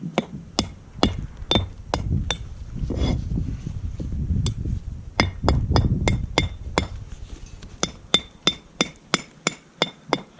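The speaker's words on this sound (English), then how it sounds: "we're just gonna take a hammer, Mason's hammer, and we're just gonna chip this block" Sharp metallic mason's hammer strikes chipping a smooth concrete patio block, dozens of hits in quick irregular bursts, with a low rumbling background in the middle stretch.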